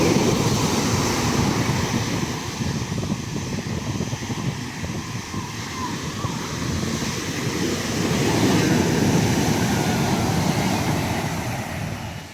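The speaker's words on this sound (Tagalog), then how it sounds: "Lalakas ng alon." Strong surf at Dingalan, Aurora, with waves breaking on the shore in a continuous loud wash that swells near the end, mixed with wind noise on the microphone.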